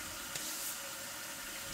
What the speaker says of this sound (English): Now I can turn the water on and adjust the final height of the water as needed.